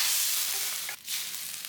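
Seafood stir-fried in a wok with a splash of Shaoxing wine, giving a steady close hiss of sizzling oil broken by a brief scraping toss midway.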